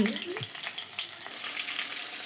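Pieces of rui fish sizzle in oil with a constant dense crackle, broken by a few soft scraping stir sounds near the start.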